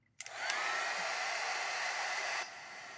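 A hair dryer switches on abruptly and blows steadily for about two seconds, drying wet watercolor on craft paper, then cuts to a lower level; close and alone with no talking.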